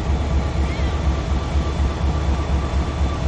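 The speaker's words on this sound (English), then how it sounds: "Office car special train. My bad, the business train." A Pan Am business train of office cars rolls along the railroad at White River Junction, giving a steady, loud low rumble with faint wheel noise throughout and no clear clacks or horn.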